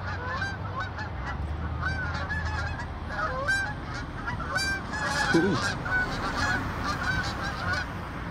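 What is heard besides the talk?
geese honking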